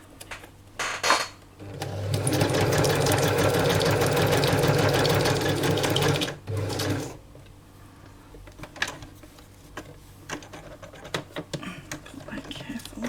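A sewing machine stitches through paper for scrapbook ruffles, running in a loud, steady whirring burst of several seconds, then a shorter run, followed by quieter clicks and handling sounds.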